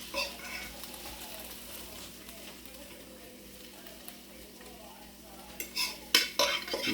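A spoon scrapes and clinks as onion and pepper filling is scooped into mushrooms for vegetarian stuffed mushrooms, soft quiet stirring and scraping at first, then a few sharper metallic clinks of utensil against dish near the end.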